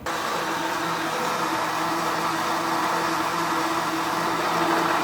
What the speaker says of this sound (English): Put the coconut pieces into the blender along with water.